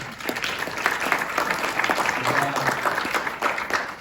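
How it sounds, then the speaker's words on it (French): A crowd at a book event for author Ali Houmed Ibrahim applauds, dense clapping rising and falling in a fairly close room, with a few voices audible beneath it. "J'aimerais que vous applaudissiez aussi Roda."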